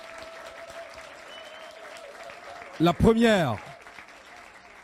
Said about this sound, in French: je vous demande d'applaudir chaleureusement